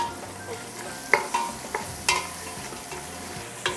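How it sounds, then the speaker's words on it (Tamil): Onions with salt sautéing in a pan, a continuous sizzle broken by several sharp clinks and scrapes of a spoon stirring against the metal. "இந்த வெங்காயம் சீக்கிரம் வதங்குறதுக்காக சிறிதளவு உப்பு, தேவையான அளவு உப்பு"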